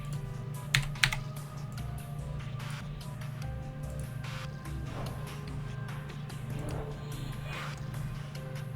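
Quick bursts of clicking keys on a computer keyboard, fairly faint and irregular over a steady low hum, with a couple of sharper taps early on.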